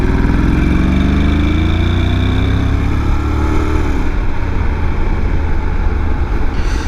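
A first-generation Honda X-ADV motorcycle with its stock exhaust roars loudly and close, engine pitch climbing through the revs before settling into a rough, steady drone, with wind rush at speed.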